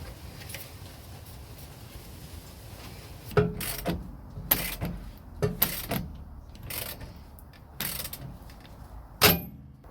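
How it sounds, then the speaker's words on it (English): A ratchet tightens the shock absorber nut on a VW T3 van, a series of loud, close metallic clicks and clunks in uneven bursts after a quiet start. "the nut goes on the other side, and we need to tighten that up to 145 Newton meters"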